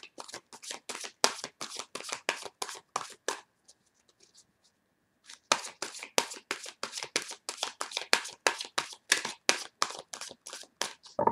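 Playing cards shuffled for a nine-card spread, with rapid riffling bursts in a steady run, a short pause near the middle, then continued brisk shuffling, close and fairly loud.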